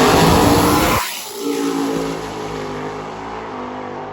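Drag race cars at a sick week event, including a Chevy II, roaring loudly then cutting off sharply about a second in, followed by a lower, steadier engine drone as the cars run away down the strip.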